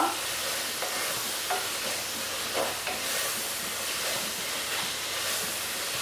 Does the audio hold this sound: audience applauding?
no